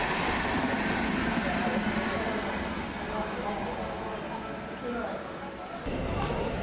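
A train rolls into a railway station with a continuous loud rumble and rail noise that eases slightly, then swells again near the end, as people talk over it.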